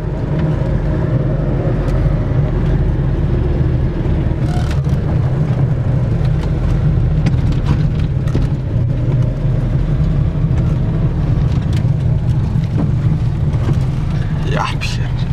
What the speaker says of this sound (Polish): Jedziemy Renault Quattro.